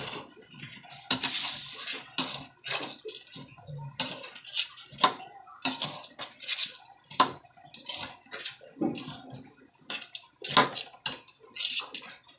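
A spoon scrapes and clinks against a cooking pot while stirring crab and squash, a close, irregular series of metallic knocks and scrapes with short pauses between strokes.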